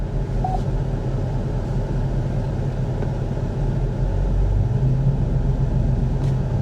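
A Chevy Avalanche pickup truck with hail damage and a busted windshield idles with a steady low engine rumble as it is shifted into gear, close and continuous, with no talking.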